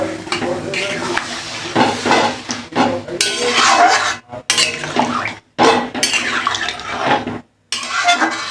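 Water going into a pan of papaya and potato curry, with a bubbling sizzle, clinks of a utensil against the pot and stirring in uneven bursts with short gaps, close and loud.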